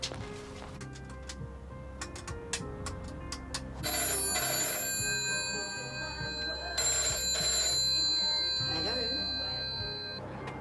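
A telephone rings in repeated bright bursts, moderately close and fairly loud, from a station phone box in 1988, with quiet background noise around it.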